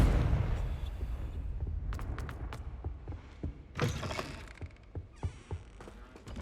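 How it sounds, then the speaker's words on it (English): Confringo blasting spells cast in Hogwarts Legacy: a rapid series of sharp whooshing cracks and fiery bursts, close and fairly loud, rising out of a murky game ambience. "Also, Confringo."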